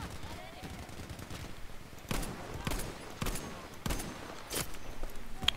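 Gunfire in the video game Battlefield V, with sniper shots among it: several sharp, loud cracks at irregular intervals over a busy battlefield background.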